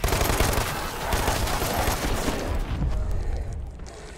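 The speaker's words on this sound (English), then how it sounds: "I'll try this new machine pistol." Rapid machine pistol fire in the video game Dead Island 2, a dense burst of loud automatic shots with booming impacts that tails off toward the end.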